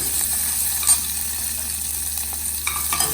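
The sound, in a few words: vaghar tempering sizzling while stirred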